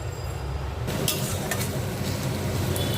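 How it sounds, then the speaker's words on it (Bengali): Sliced onions frying in oil until light brown for chicken biryani, a dense, loud hiss that swells after a second, with a few sharp metallic clinks of a utensil on the pan and no speech. "এখানে আমি পেঁয়াজ বেরেস্তাটা হালকা বাদামি করে ভেজে নেবো"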